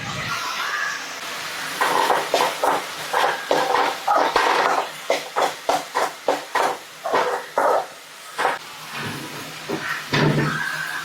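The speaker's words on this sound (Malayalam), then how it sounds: "മുളക് ഇട്ട് കൊടുക്കാം." Bird's eye chillies sizzle and hiss in a hot pan for a fish egg stir fry, heard close and loud, with a steady fry broken by a rapid run of scraping and stirring strokes.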